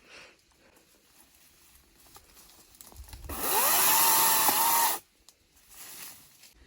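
A saw cuts through branches while pruning a giant viburnum bush: one loud, harsh burst of cutting lasting under two seconds, set between quiet stretches with faint rustling.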